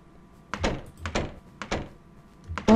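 Wooden doors in the Minecraft video game knocked and thudded repeatedly, giving four separate blunt thunks spread over a few seconds with brief silences between them and no talking.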